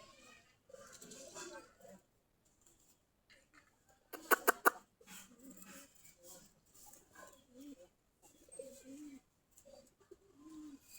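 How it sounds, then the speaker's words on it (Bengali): Several Deshi Giribaj pigeons, a local Bangladeshi breed, kept at a loft with many perched on doorways and trees, make soft intermittent cooing and rustling sounds, with a brief burst of flapping or clatter midway. "সবগুলা দেশি গিরিবাজ কবুতর, দেখতে অনেক সুন্দর লাগতেছে এই কবুতরগুলো"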